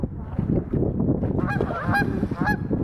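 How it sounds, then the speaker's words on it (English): Canada geese honk outdoors by the water in a few loud, separate calls near the end, rising over steady low rumble and background noise. "These are Canada geese,"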